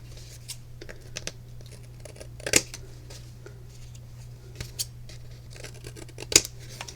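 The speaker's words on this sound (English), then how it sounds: "I'm going to have to cut these sides off because they're too long." Scissors cut the long sides off a handmade card made from scraps, giving a few sharp, close snips scattered over a quiet crafting table with a steady low hum underneath.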